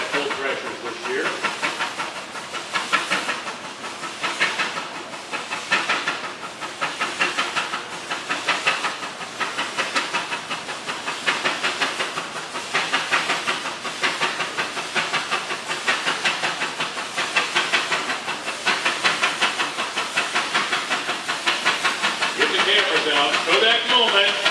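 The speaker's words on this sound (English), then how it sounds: "Coming down here on this big Wood Brothers steam engine built up in Des Moines, Iowa." A Wood Brothers steam engine built in Des Moines, Iowa, shown at a threshers' show, hisses and chuffs in a steady pulsing rhythm, loud and continuous throughout.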